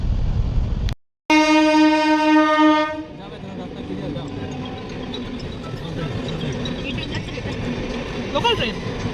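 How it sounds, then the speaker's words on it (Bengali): A local train passing on a rail line sounds a long, loud horn blast, followed by a steady rumble of the passing carriages. Voices talk faintly in the background. "Local train."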